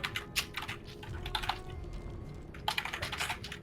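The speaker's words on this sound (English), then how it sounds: "Couldn't hear me over your furious typing." Fast, furious typing on a computer keyboard, dense bursts of clicking keystrokes with a short lull in the middle, close and clear with no voices over it.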